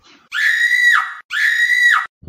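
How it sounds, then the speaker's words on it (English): Phone ringtone made of a recorded human scream, two loud piercing shrieks of about a second each separated by a short gap, close and clear with no talk over them. "Oh, that's my ringtone."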